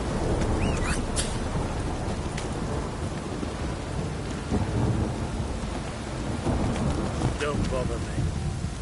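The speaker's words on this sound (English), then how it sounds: "Downpour's a bastard, it is." Heavy downpour pours steadily in The Witcher 3 on PS4, a dense roaring hiss of rain with low rumbling, faint bird chirps poking through near the start.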